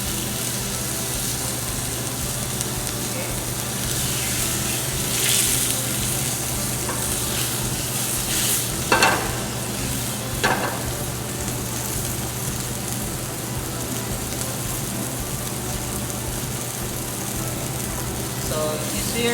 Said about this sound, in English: you should hear that sizzling sound